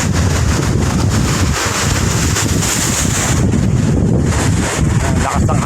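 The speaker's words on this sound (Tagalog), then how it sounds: "Lakas ng hangin mga kapit." Strong wind buffets the microphone at the sea on Manila Bay during typhoon season, a loud, steady roar that stays unbroken from start to end.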